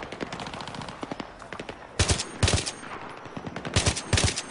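Rapid bursts of automatic gunfire in the Battlefield 3 video game, dense volleys of shots in several loud clusters with quieter scattered shots between them.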